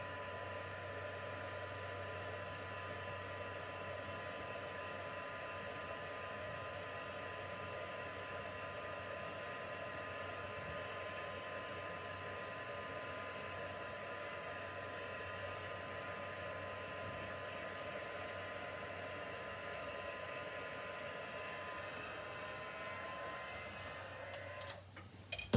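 A dryer blows continuously over a paper craft piece, a steady, even whooshing hum with a faint tonal whine that holds for the whole stretch, ending with a couple of small knocks.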